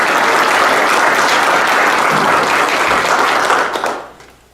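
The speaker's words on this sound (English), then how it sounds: "Give him a round of applause." A room full of people at a senior signing day applauding warmly for a few seconds, then the clapping quickly dies away.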